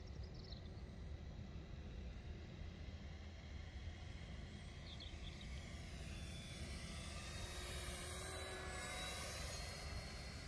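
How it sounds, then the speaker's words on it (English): A Spitfire fighter makes a slow, low pass down the airstrip at an air display, its engine a steady, continuous drone throughout that swells slightly louder toward the end. "Right, just do a normal flyby, guys."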